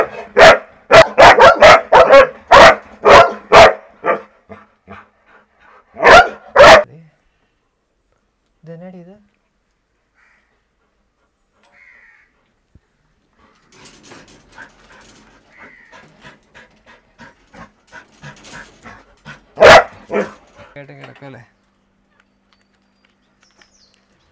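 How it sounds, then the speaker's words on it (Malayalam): A Labrador on a mixed farm gives a run of loud, close barks, then a second pair. Quieter panting and shuffling follow before one more sharp bark near the end. "ഇത് ലാബ്രഡോറിന് ഇനത്തിൽപ്പെട്ട ഒരു പട്ടിയാണ്."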